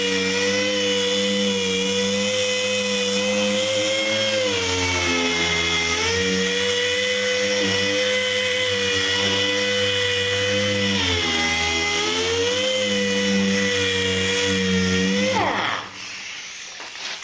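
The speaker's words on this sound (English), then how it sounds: "I take my high quality Harbor Freight DA with some 40 grit on it, and I go over everything I've taken the paint off of." A Harbor Freight DA sander with 40 grit paper whines loud and close while stripping paint on a 1955 Chrysler Windsor restoration, its pitch wavering under load before it spins down near the end.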